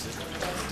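Running water for washing hair at a barber's, a continuous close hiss of flowing tap water, brief and steady.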